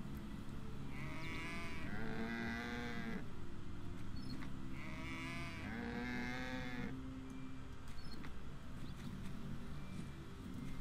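Sheep bleating in the video game My Time At Portia, two drawn-out wavering calls close by over a steady ambient game background, with no talking.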